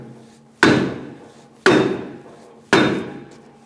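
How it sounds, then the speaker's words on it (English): A rubber mallet strikes a 2002-2006 Toyota Camry brake drum three times at an even pace. Each blow is a loud, close thud with a short decaying ring, and there is quiet between the blows. "You might have to give it a good whack. I'd put a lug nut back on if the wheel isn't coming off. Using a rubber mallet."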